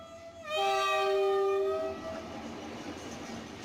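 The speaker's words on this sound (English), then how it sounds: "The train began to move." A loud, steady train whistle blast sounds for about a second and a half, then fades into a low, continuous rumble as the train starts to move off; no voices are heard.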